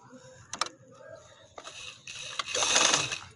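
A sewing machine stitching a full sleeve runs in a short, steady burst near the end, after a few scattered clicks and handling taps.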